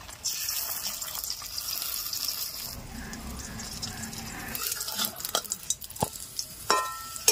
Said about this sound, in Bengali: তেল গরম হয়ে গেছে, ডিমটা দিয়ে দেব।